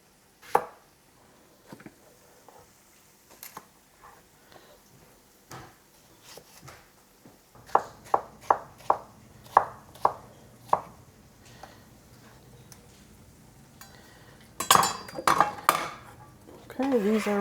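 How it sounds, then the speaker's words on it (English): Peeled cucumbers are chopped with a knife on a board: scattered taps at first, then a quicker run of crisp, evenly spaced strikes, ending in a louder burst of knocks and utensil clatter. "Okay, these will also get chopped."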